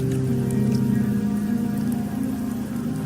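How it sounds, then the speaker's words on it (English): Rain falling in the video game Wuthering Waves, a dense steady patter under a low sustained hum, close and fairly loud throughout. "The rains in Septimont never seem eager to leave this season."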